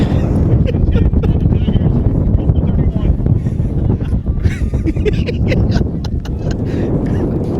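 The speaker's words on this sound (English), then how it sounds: "Just a little windy out here." Steady, roaring wind buffets the microphone throughout at a high school football game, a constant low rumble with gusty surges.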